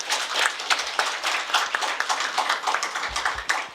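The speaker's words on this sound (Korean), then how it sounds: "패널 분들한테 뜨거운 박수를 부탁드리겠습니다" At a Seoul city policy debate, the audience gives the panel a round of dense, brisk clapping at moderate volume, with a few low thumps near the end and no speech over it.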